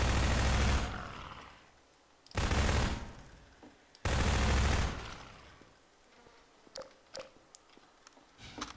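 Bursts of gunfire in the video game Half-Life 2: two long rapid automatic volleys, then a third, followed by scattered single shots and clicks, loud and close with no talking.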